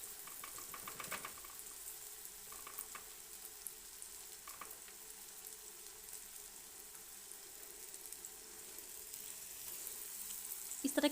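Battered pieces fry in hot ghee with a faint, steady sizzle and crackle, joined by a few soft clinks and stirring sounds.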